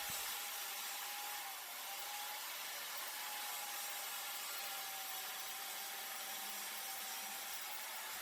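A hand saw cuts through live edge wood along a clamped guide on a bench, making a continuous, fairly faint rasping stroke sound that runs steadily throughout.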